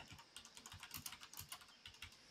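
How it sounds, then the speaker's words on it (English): A very loud computer keyboard typed in quick, steady clacks, close and quiet overall, with no talking. "Everyone enjoy the keyboard ASMR while I putt."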